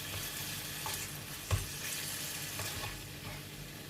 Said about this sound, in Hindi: चिकन को हमें इतना पकाना है कि चिकन का कलर चेंज हो जाए